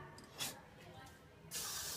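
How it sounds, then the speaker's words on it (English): Hairspray sprayed over styled hair in short aerosol hisses, a brief burst early and a louder, sustained spray near the end, close to the microphone. "And we've got to spray all over."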